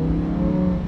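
A Lamborghini Huracan engine holds a loud, steady, droning rev at close range, a brief unbroken burst without any speech.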